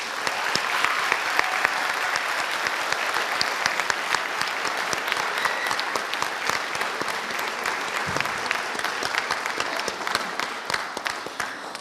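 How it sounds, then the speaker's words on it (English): A graduation audience applauds in a large crowd, sustained dense clapping that holds steady for the whole stretch and tapers slightly near the end. "I'd like to give them a special round of applause right now"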